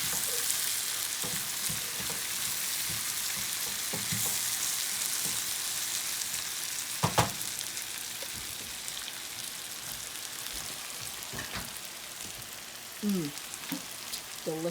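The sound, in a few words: breakfast burrito filling frying in a pan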